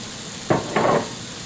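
Fresh spinach hits a hot pan for penne pasta, giving two brief soft sizzling rushes over a steady background hiss.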